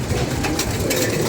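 Pigeons cooing in a soft, steady murmur that carries on throughout, with no voices present.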